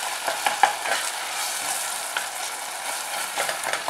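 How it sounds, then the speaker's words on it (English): Cooked tomatoes are mashed and stirred in a frying pan, with a soft continuous sizzle and a few sharp scraping clinks of the utensil against the pan early on. "Tomatoes are completely cooked. Mash this a little bit."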